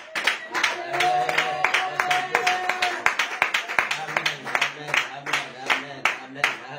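A church congregation claps in rhythm, with sharp, irregular claps close by over a backdrop of voices and a held sung or spoken tone, as the clapping continues and builds.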